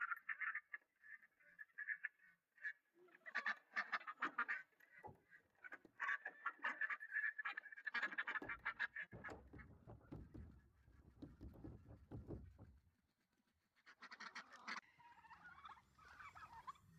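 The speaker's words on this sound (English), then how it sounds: "These are our last chickens. There are about 15 hens and 5 roosters here." Farm flock of about fifteen hens and five roosters, clucking and squawking in busy overlapping bursts, with a denser, noisier stretch in the middle and calls rising again near the end.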